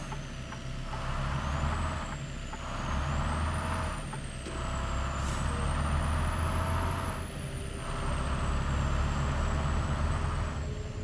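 A truck engine in a driving simulator game drones steadily and loudly, with low rumbling that swells and eases as it shifts, while a faint high whine sweeps slowly up and down above it.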